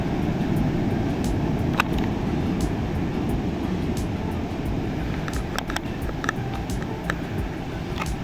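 A Fimi X8 Mini drone flies over the Pananjung Pangandaran nature park, its steady buzzing drone continuous and fairly loud throughout, with faint ticks and distant sounds scattered over the hum.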